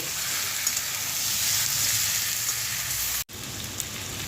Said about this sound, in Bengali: এবার এটাকে আমি পুরো ধনেপাতা এবং পেঁয়াজের এই মিশ্রণটার সাথে ভালো করে কষিয়ে নেব।